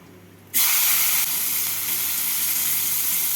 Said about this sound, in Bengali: তেলটা গরম হয়ে গেছে এবার এর মধ্যে দিয়ে দিচ্ছি দুটো এলাচ আর দুই টুকরো দারচিনি